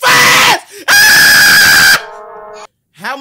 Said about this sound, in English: And then you screamed very loud, adding eight.